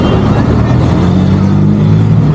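City road traffic on MG Road heard from amid the flow, a loud continuous drone of engines and tyres with low rumbling vehicle tones and no pause.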